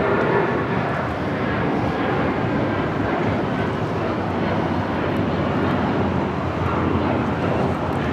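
A United Airlines Boeing 757-200 takes off from Los Angeles airport, a steady, loud jet engine roar filling the whole stretch with broadband rumble and wind buffeting, no talk.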